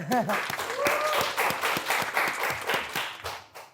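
Studio audience clapping on an Indonesian talk show, a run of distinct claps from a small group, close and lively, with a brief voice at the very start.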